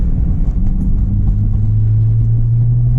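An Acura RSX-S under throttle gives a loud, steady low rumble with a droning grind that holds throughout, close and without talk.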